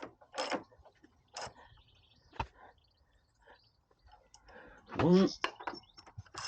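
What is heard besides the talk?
tightening nuts on BSA Goldstar 650 shock absorber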